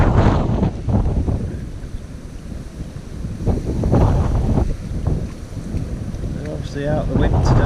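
Gusty wind at a fishing lake buffets the microphone in heavy, rumbling surges, with a faint voice briefly audible near the end.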